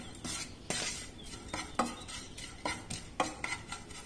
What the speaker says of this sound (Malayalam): ഫ്ലെയിം തീരെ കുറച്ച് വെച്ച് വേണം നമ്മൾ ഇത് വറുത്തെടുക്കാനായിട്ട് ഈ മുളക് പൊടിയെ.